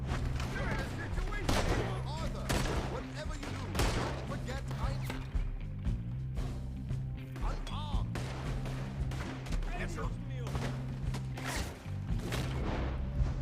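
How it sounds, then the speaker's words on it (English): Gunfire in the video game Red Dead Redemption 2, repeated shots and crashes in a busy mix over steady background music, with a voice talking throughout. "I'm shooting up a place."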